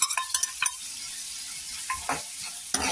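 Vegetables, including beetroot and finely sliced capsicum, sauté in hot oil for taco filling, with a steady sizzle and a few sharp stirring clinks of a spoon against the pan, close and with no talking.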